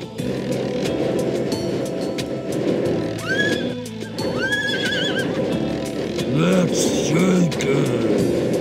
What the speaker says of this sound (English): Best horse in the land.